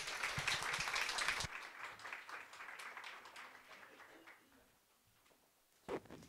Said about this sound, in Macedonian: Молам аплауз и ја поканувам на сцената